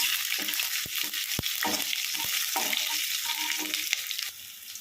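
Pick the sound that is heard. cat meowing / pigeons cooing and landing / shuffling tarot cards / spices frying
spices frying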